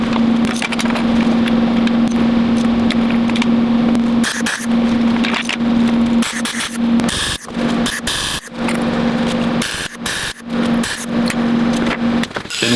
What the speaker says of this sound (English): now we can actually weld the tape measure holder together